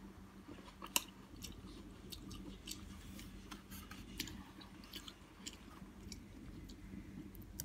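Someone chews Indian Sonaka green seedless grapes up close, making soft, steady crunching and wet squishing bites that stay faint but continuous, with no talking.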